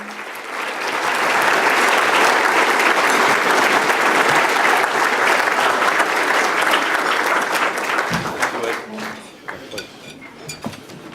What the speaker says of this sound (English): let's give the Honorable James Durkin a big round of applause